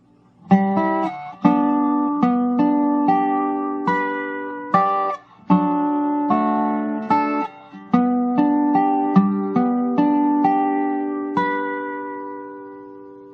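Solo dobro plays the entire fourth line of a bluegrass piece: a steady stream of bright, resonant picked notes and phrases, close and clean, ending on a long ringing note.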